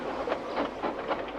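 Cartoon train sound effect of a breakdown train running, with a rhythmic chugging clatter that pulses steadily at moderate volume.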